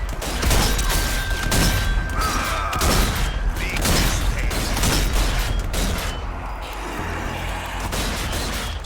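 Heavy, booming shots from a fully upgraded rifle in the video game Zombie Army 4: Dead War, fired in slow succession amid dense, loud combat noise and mechanical clatter, with a voice talking over parts of it.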